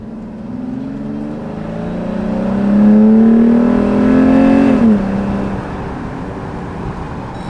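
A modded Jeep engine with an aftermarket intake revs up, swelling into a loud, close rise in pitch around the middle, then settling back to a steady drone, with no talking.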